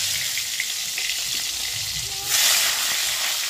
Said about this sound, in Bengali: তেল গরম হয়ে গেছে, একটু জিরে ফোড়ন, তেজপাত